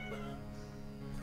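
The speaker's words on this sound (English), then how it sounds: "Quiet, cat." A cat meows in one drawn-out, tonal cry, close and fairly faint, with a bit of game audio in the background.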